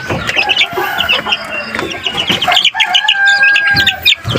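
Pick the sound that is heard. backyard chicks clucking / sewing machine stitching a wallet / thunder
backyard chicks clucking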